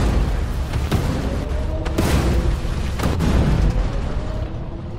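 Incoming missile fire in a combat video game: several heavy booms land about a second apart, each a loud, broad burst over a constant rumbling background.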